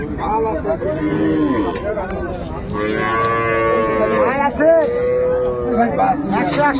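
Dairy cows and calves low several times at Raniganj cattle market in Dinajpur, with close, loud moos rising over steady crowd noise and nearby voices.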